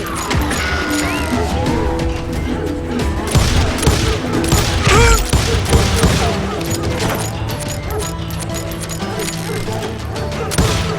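Gunfire in the Western shooter Call of Juarez Gunslinger, dense loud volleys and crashes layered with game effects and music, continuous and busy throughout with no clear talking.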